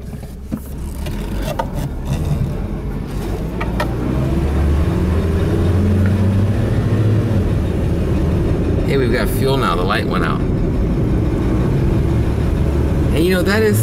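An older car's engine idles with a low, steady rumble that settles and continues evenly while someone talks over it close by.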